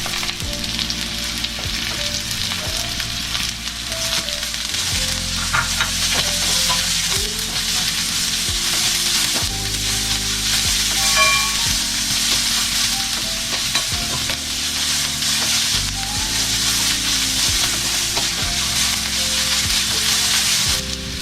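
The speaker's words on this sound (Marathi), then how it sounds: "आता कापलेले कांदे टाकतोय." Chopped onions frying in a pan for masala Maggi: a constant loud sizzle with repeated spatula stirring and scraping, close up and uninterrupted for the whole stretch.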